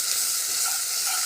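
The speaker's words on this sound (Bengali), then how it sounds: "এখন আমি আদা রসুনের পেস্ট দিয়ে দেবো 1 চামচ, দিয়ে ভালো করে কষিয়ে নেব।" Ginger garlic paste frying with browned onions in a pan, a loud, dense, steady sizzle with no voices.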